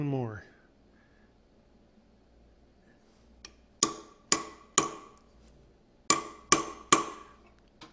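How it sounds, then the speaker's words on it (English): A metal hammer taps on a woodturning setup, giving six sharp, ringing strikes in two quick groups of three, loud and close after a stretch of near silence. "I like to use a metal hammer because like a rubber mallet just doesn't seem to do enough"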